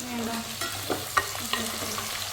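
Vegetables being stirred and sautéed in a pan for Tamil home cooking, a soft continuous sizzle broken by several scraping stirs and clinks of the spoon against the pan.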